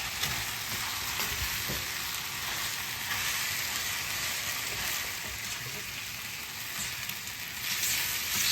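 Chow mein noodles with green onions and Napa cabbage sizzle loudly in a pan over high heat, a dense continuous crackling hiss broken by stirring and tossing sounds, with brief faint talk.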